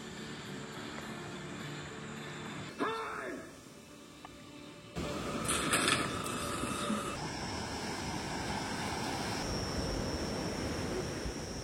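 Ocean waves on a beach at night with sea spray, a continuous broadband surf roar that swells louder partway through, with people talking over it and a brief passing tonal sound.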